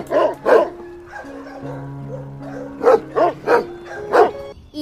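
A dog barks in short bursts, a pair of quick barks near the start and then four more spaced yaps toward the end, over a soft sustained musical tone in a children's alphabet song setting.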